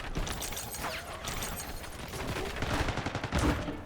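Rapid bursts of video game gunfire in Squid Game with clattering mechanical clicks, loud and dense, building toward sharper shots near the end.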